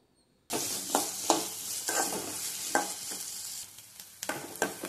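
Onions frying and being stirred in a pan for a tomato chutney, a loud steady sizzle that starts abruptly, with repeated scraping stirs and spatula knocks throughout and no talk.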